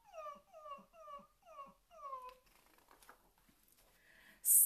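A voice imitates a begging dog's whimper: five short, high, falling whines in a steady row, then quiet rustling and a sudden loud burst at the end.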